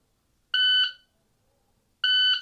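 Shot timer for a pistol reload drill gives two sharp, loud electronic beeps about one and a half seconds apart, clean and alone against silence.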